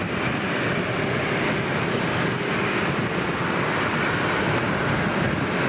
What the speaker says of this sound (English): There's another TUI Dreamliner